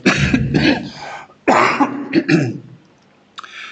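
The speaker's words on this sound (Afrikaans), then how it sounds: "Jammer vir die al ewige hoes." Several harsh coughs and throat-clearing bursts from a preacher during a sermon, loud and close, coming in uneven clusters with brief pauses between them.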